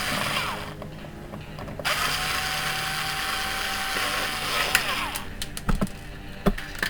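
A power tool spins out loosened lock bolts on a Renault Laguna II with a whirring, ratcheting mechanical run, followed by short bursts and sharp metallic clicks, close and loud.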